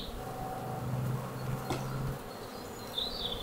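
Honeybees from an opened, queenless hive buzz steadily nearby, a continuous low drone with a few louder passes close by and a faint higher whine near the end, with no talking.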